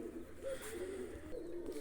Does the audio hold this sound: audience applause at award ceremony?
no